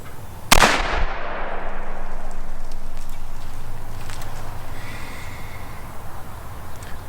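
A single sharp, loud report from a Shiloh-Sharps Cavalry Carbine firing a 45-70 Hornady 325 grain LEVERevolution load outdoors, followed by a long fading echo across open ground.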